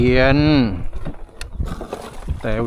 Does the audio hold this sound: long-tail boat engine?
yes